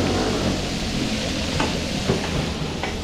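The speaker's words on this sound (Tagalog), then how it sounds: "So si Jeboy, nagpiprito na ng chicken manok." Chicken frying in hot oil at a catering job in San Fernando, Pampanga, gives a dense, steady sizzle and crackle, close and loud, with a few soft clinks of utensils.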